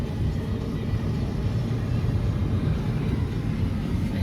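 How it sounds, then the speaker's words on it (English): A DHL cargo airplane flying overhead gives a steady, fairly loud low rumble that holds evenly throughout, heard from outdoors near a road. "Oh, airplane! DHL airplane."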